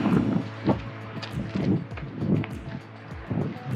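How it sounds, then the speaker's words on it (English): Gusty wind blowing over a microphone at a Grand Canyon rim viewpoint, a steady rumbling buffet with recurring swells and low thumps, close and fairly loud throughout. "Ooh, the wind."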